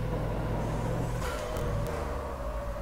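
Racing truck engine from the Formula Truck class in the sim game Automobilista, droning steadily and loud with a shifting low growl as the truck drives through a downhill chicane; no talk.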